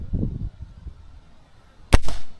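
A single sharp crack from a Diana 34 .177 air rifle firing an RWS dome pellet, close and loud with a short echoing tail, after some quiet low murmuring.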